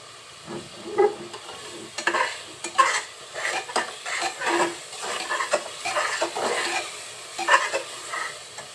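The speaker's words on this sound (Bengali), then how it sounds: "একটু কষিয়ে নিচ্ছি।" Spices sauté in oil in a pot for beef curry, with repeated close stirring and scraping strokes and clinks of a utensil over a soft sizzle.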